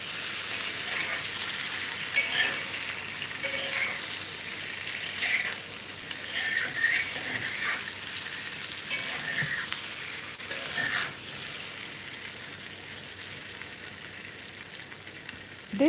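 Gujarati muthia fry crisp in a pan, giving a steady, loud sizzle and crackle that runs unbroken for the whole stretch, with no voices.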